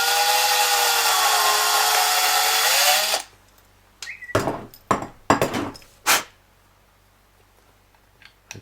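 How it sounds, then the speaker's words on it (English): A drill runs loudly and continuously for about three seconds, boring small holes while fitting a tremolo guitar kit, its pitch dipping under load, followed by several sharp knocks and clatters. "find a drill and drill up the holes"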